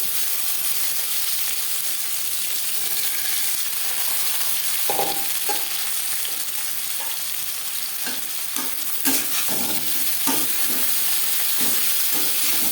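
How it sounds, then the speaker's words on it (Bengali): Pieces of bitter gourd fry in oil with cumin seeds and green chilli, a loud continuous hissing sizzle broken by repeated scraping knocks of a stirring spoon in the later half, with no voices. "লঙ্কার সাথে জিরে 10-15 সেকেন্ড ভেজে নেওয়ার পর দিয়ে দেবো টুকরো করে কেটে রাখা উচ্ছে"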